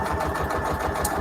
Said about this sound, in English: I'm just basically doing a straight stitch just through the middle right here.